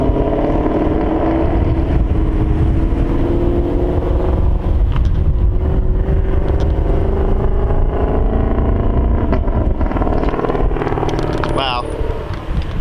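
A 2020 Shelby GT500 sports car roars close by while driving fast, its loud engine drone rising in pitch through acceleration, with excited voices talking over it.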